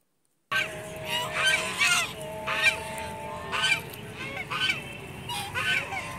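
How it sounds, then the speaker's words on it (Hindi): Geese honk repeatedly and loudly close by in an outdoor natural setting, a series of harsh calls coming in uneven bursts. "ये परिंदों की आवाज़ें"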